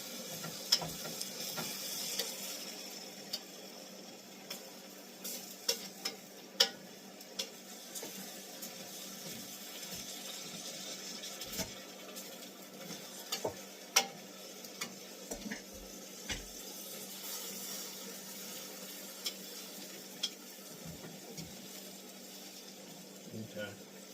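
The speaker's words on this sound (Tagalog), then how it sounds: "Nasusunog na yung ilalim, haluin mo na." A cooking egg roll filling stirred in a pan, its bottom starting to burn, gives a steady low sizzle broken by many small scraping clicks from the utensil, with quiet room noise in the background.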